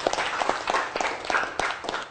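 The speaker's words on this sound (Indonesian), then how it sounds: "Bagus, beri tepuk tangan dong." A classroom of students clapping for a classmate, a short burst of scattered, uneven applause, fairly close.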